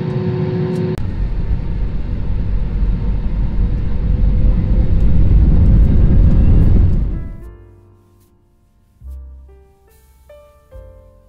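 Bamboo Airways airliner taxiing toward the runway at an airport with a parallel runway, a loud steady cabin rumble and engine drone that drops away sharply after about seven seconds, leaving faint cabin noises and soft tones.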